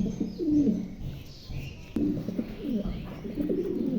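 Pigeons at a Bengali pigeon market coo repeatedly in low, throaty phrases, several birds close by, with occasional chirps and a sharp click near the middle.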